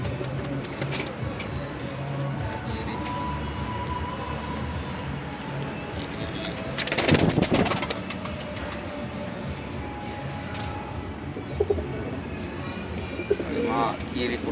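Pet birds in a home aviary coo and call repeatedly, with soft chirps mixed in, while a voice speaks now and then and a brief louder rustle or burst sounds midway.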